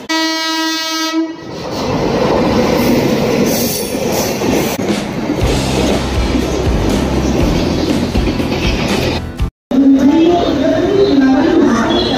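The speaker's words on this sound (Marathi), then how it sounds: "प्लेटफॉर्म क्रमांक 2 के किनारे से दूर खड़े रहिए, एक जल्द गाड़ी जाने वाली है।" A Mumbai suburban local train roars through a station platform close by, opening with a loud horn blast, then rumbling wheels and clattering cars with screeching metal, dominating the scene for several seconds.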